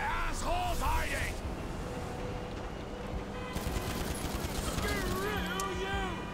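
Bursts of gunfire in GTA 5, rapid volleys of shots at the start and again near the end, separated by a quieter stretch of background game noise.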